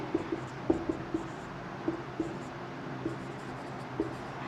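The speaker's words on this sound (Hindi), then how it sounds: "तो इलेक्ट्रिक फ्लक्स की पहले मैं डेफिनेशन लिख लेती हूँ, इक्वेशन।" Pen or marker writing out the definition of electric flux during a physics lesson: a faint background hiss with soft, irregular tapping strokes spaced through the clip, no talking.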